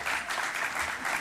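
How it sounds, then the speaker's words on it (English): Brief burst of audience applause during a meeting session, a dense even patter of clapping from a moderate crowd, heard fairly faintly and alone. "you can clap"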